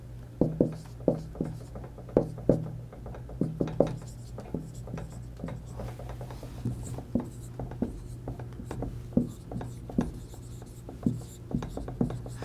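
Chalk or marker strokes on a board during a theology lecture, a steady series of short taps and scratches in uneven rhythm, close and clear, with a low constant hum and occasional speech between strokes.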